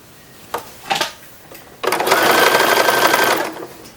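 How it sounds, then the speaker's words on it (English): Sewing machine stitching the side seam of a 1910s-style infant wrapper, a couple of short bursts then a sustained whirring run of about two seconds, close and loud. "Now we're going to sew the side seam."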